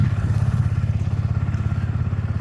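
Engine of an old, rattling four-wheeler running steadily at close range, a low throbbing idle with a fast regular pulse and light clatter, no voices.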